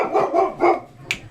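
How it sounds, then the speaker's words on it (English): A neighbor's dog barks three times in a row at close range, each bark loud and a little rough, followed by a short sharp yip. "the neighbor's dog is barking, and that makes mine think he needs to bark."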